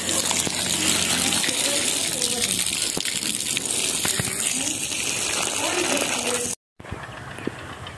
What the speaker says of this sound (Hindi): अभी पानी जो है ना वो बंद करवा रहे हैं जी